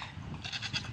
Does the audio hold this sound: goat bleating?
yes